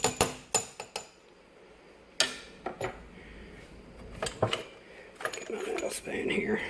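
A metal spoon pulled out from among kitchen utensils, with a quick series of sharp clinks and clatters, then scattered knocks and rustling close by.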